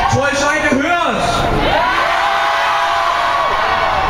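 A protest crowd shouts and cheers loudly together in a long rising yell, with whoops standing out over the continuous roar of voices.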